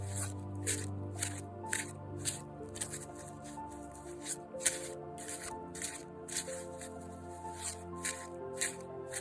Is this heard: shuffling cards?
yes